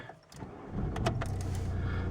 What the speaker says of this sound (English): I shall take the key, pop it in the ignition.